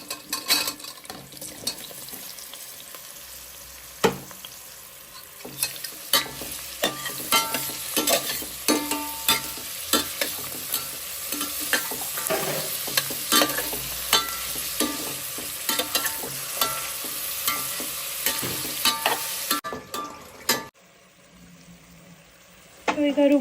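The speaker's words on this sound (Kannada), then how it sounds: "ಮಶ್ರೂಮ್ ಹಾಕ್ತಾ ಇದ್ದೀನಿ." Sliced mushrooms sizzle and fry in a pan at home while a spoon stirs and scrapes them in steady, repeated strokes, the crackle continuous and close before it drops away near the end.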